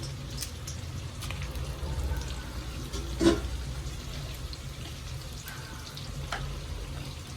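Dried red chillies sizzle in hot oil for amla pickle, a close, steady crackling fry with a brief louder pop partway through and no talking.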